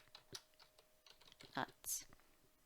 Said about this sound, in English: if I click on text and type up chestnuts